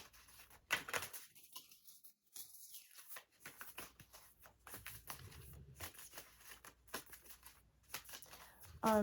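Tarot cards shuffled in quick riffling bursts, papery flutters and snaps with short pauses between, fairly close and fairly quiet.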